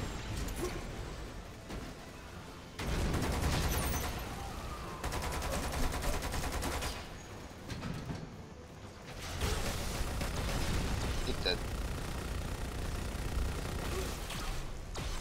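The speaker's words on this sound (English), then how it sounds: "Oh man, that's a lot of turrets." Turrets in the video game Lost Planet 2 keep up steady rapid gunfire with heavy booming blasts, dense and loud throughout, briefly thinning about a third of the way in before resuming.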